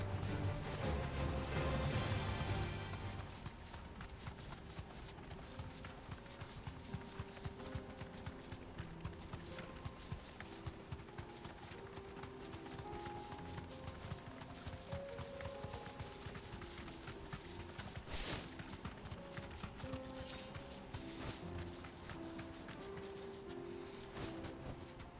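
Galloping hooves of a riding mount in Final Fantasy XVI, a steady rapid clip-clop rhythm running on for about twenty seconds, moderately loud, after a brief louder burst of other game sound at the start.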